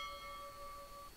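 A ship bell sound effect rings out as a single sustained, clear metallic tone with several overtones, decaying slowly and fading out after about a second, quiet and alone.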